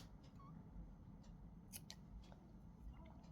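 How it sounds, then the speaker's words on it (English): Scissors snip a crocheted yarn tail in a few quick, close cuts over a steady low room hum, with no talking. "I'll just trim the yarn end over here, the yarn tail from the back"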